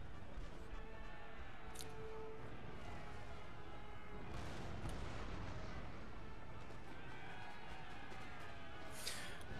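Rolling artillery battery fire and explosions from a Napoleonic-era battle in Napoleon Total War, a dense, continuous roar of booming cannon shots with scattered sharper bursts, loud throughout with little pause.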